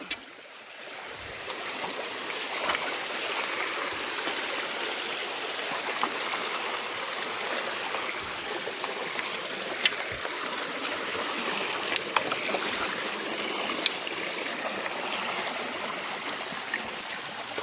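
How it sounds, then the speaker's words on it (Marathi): A Konkan stream flows in a steady, close, continuous burble around someone wading through it while hunting for crabs, with no voices. "पाण्यात उतरलेलो आहे खाली"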